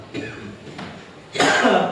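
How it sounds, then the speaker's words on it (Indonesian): A couple of rough coughs, the second louder and more forceful, close to the listener in a quiet room. "Agak batuk pas gitu."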